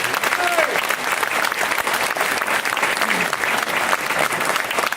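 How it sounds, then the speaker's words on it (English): A room full of people at a suburban political group's meeting gives a sustained burst of clapping, dense and even from start to finish, close and loud with no break. "Let's give her a big round of applause."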